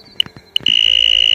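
Electronic fire alarm going off: two short beeps, then a loud continuous piercing tone that rings on steadily and close.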